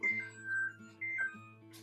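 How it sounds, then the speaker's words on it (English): A kitchen oven timer, set for a 300-degree oven baking pumpkin, beeps in a few repeated high electronic tones over a steady low hum, with no one talking. "the timer just went off"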